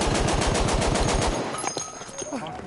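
Rapid automatic gunfire in a video game rattles out in a fast, loud burst for over a second, then stops, leaving scattered game noises and brief voices.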